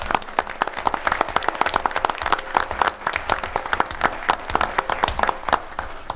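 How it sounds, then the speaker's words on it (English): Applause at a school board meeting in Owatonna honoring a junior student, many hands clapping steadily at moderate distance with no talk over it. "Let's give Nils a round of applause."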